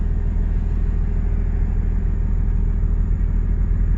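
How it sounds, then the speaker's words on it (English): Steady low engine rumble and road noise from a car cruising along an empty back road at night, continuous and even throughout with no voices. "Peaceful driving here at night when no one's on the road."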